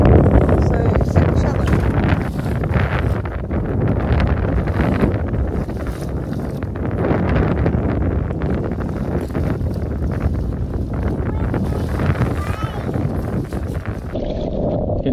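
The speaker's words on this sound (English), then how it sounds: "Super windy." Strong gusts buffet the microphone throughout while canoeing in the Noosa Everglades, producing a constant low rumbling roar with choppy bursts of wind noise.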